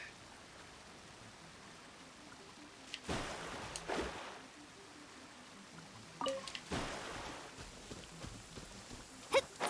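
Rainfall inside the video game Genshin Impact, a steady soft hiss running throughout with a few louder broadband surges, moderately near and without voices.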